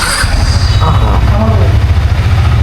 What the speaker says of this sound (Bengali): বাইকটা একটু স্টার্ট করি।